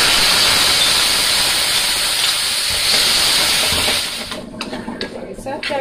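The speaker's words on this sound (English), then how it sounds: "I'm going to go ahead and add my shrimp" Seasoned shrimp hitting a hot pan for a rosé pasta give off a loud, steady, hissing sizzle that fills the first four seconds, then drops back to a lighter crackle with a few clinks.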